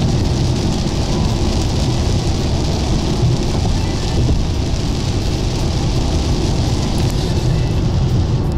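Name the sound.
heavy rain on a car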